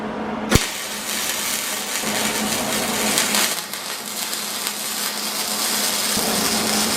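A power tool cuts metal braces for a go-kart front end in one continuous, loud, close buzzing grind. It starts with a sharp click and keeps a steady drone throughout, with no talking.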